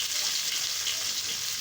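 Onion hits hot oil while okra curry is being cooked, giving a steady, loud hiss of sizzling that holds even and unbroken through the short moment.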